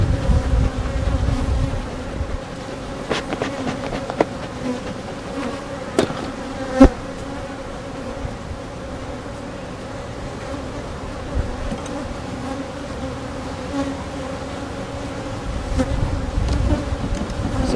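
Honeybees buzz in an open hive in a bee yard, a dense, continuous drone close to the microphone with occasional louder individual bees passing by.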